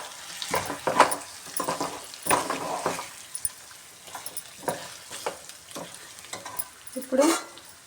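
Chicken frying in a pan as it is stirred, a steady sizzle broken by irregular scraping and clattering strokes of a spatula, close by with no talk.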